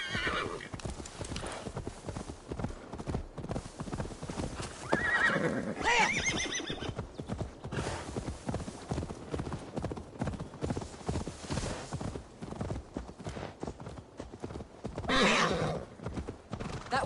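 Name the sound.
horse galloping and neighing in video game Assassin's Creed Valhalla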